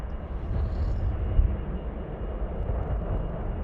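A departing airliner bound for Quito roars steadily at an airport, a broad continuous rumble of engine noise at moderate distance with no voices.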